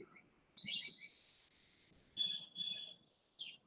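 Birds chirp outdoors in the morning in a few short, bright bursts of whistled tweets separated by quiet gaps, fairly faint and a little distant.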